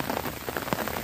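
Morning rain falling on a garden, a close patter of drops spattering on leaves and ground, dense and uneven, with no talk.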